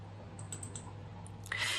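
Mouse clicks on a computer in a spreadsheet program during a double-click, heard as faint quick ticks near the start and a sharper click burst at the end over a low steady hum.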